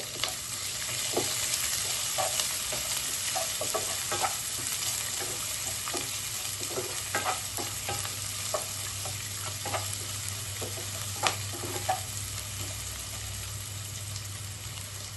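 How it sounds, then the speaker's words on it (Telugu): Green chillies, onions and curry leaves fry in a pan for tomato rice, giving a continuous close sizzle. Frequent small scrapes and crackles run over the whole stretch at moderate loudness, with no talking. "తర్వాత పచ్చిమిర్చి, తర్వాత ఆనియన్స్ వేసుకున్నామండి. ఇది కొంచెం ఫ్రై అవ్వాలి."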